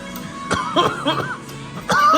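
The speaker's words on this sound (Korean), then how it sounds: "너무 흥분해서 기침이 나와." A person coughs several times in short, sharp bursts, close and fairly loud, with a throaty catch between them.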